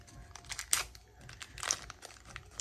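Crinkly plastic blind-bag packaging for a mini toy being torn open with teeth, a few sharp close crinkling and ripping bursts between quieter rustles.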